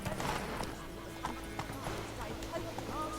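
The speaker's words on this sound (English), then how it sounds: "Run, Roach." A horse gallops in The Witcher III video game, a steady stream of close, rhythmic hoofbeats clopping over ground along with a whinny, with a voice speaking over them.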